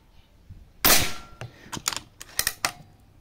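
A PCP air rifle fires a single sharp, loud crack near the microphone, then several quick lighter clicks and clacks of the action being handled.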